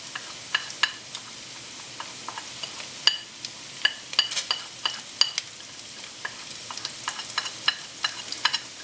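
Turmeric and spices fry in a pan for a Nepalese Gurkha curry, giving a steady soft sizzle broken by frequent sharp stirring scrapes and clicks, close and clear with no voices.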